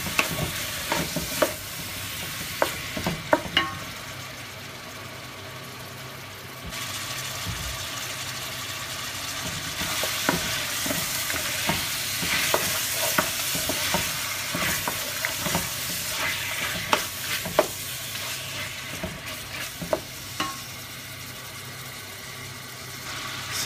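Diced lamb pieces searing in a hot pan give a steady sizzle with repeated clacks and scrapes of stirring, and a louder hiss surges partway through.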